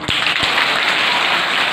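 An audience at a short film launch claps in a dense, loud burst of applause lasting under two seconds. A couple of sharper claps stand out at the start.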